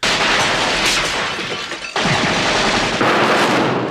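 Machine gun fire from a scene in the 1984 film Beverly Hills Cop: a loud, dense roar of shots with a brief cut near the two-second mark, then the barrage resumes just as strongly.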